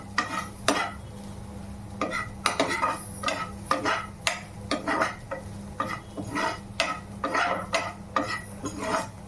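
Paneer bhurji with salt, turmeric, chilli powder and garam masala stirred in a pan: repeated scraping strokes of a spoon against metal in a steady rhythm, close and clear over a faint sizzle, with no talk.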